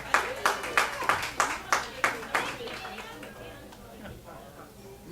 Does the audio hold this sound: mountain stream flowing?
no